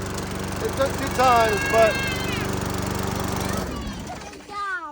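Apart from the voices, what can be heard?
repaired lawn mower engine running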